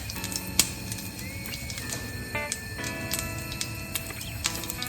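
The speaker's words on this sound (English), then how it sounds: "I'm listening for the mustard seed to pop. Can you hear it? It's already starting" Mustard seeds pop in a hot pan as scattered small sharp crackles over a low steady frying hiss, faint and irregular, with occasional louder snaps.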